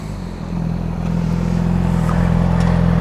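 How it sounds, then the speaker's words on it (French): Honda CRF450 supermoto engine running close by, a steady low throbbing rumble that swells slightly louder as it builds, with no voices. "Il fait un joli bruit sa moto en tout cas."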